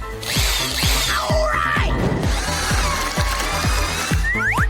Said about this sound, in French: Maintenant, je vais découper le trou. Je vais le faire avec une perceuse.